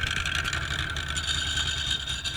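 Harley-Davidson Shovelhead motorcycle engine running at the Smokeout chopper gathering, a steady low throb heard close and alone for a brief stretch.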